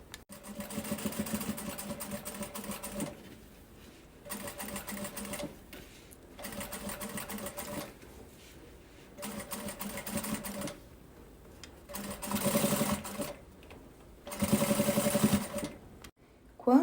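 A sewing machine stitches fabric around a curve for a cup-holder pouch, running in loud steady bursts of a few seconds each, separated by short pauses, with a voice speaking faintly in the gaps.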